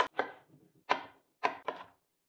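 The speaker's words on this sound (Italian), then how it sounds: "Tagliamo la melanzana a piccoli cubetti." An eggplant being cut into small cubes with a knife on a board for a risotto, four crisp chops in quick succession, close and clear with no talk.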